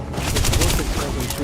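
Enemy gunfire in the video game Starfield, a dense, loud burst of rapid overlapping shots with a voice mixed in during the short stretch.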